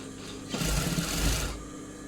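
A sewing machine stitches a blouse in one short close burst of about a second, rising and stopping against a quiet room.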